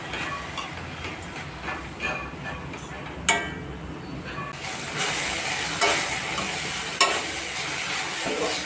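Beetroot thoran being stirred in a pan, with intermittent scraping stirs and clicks over a soft sizzle that grows louder and brighter partway through.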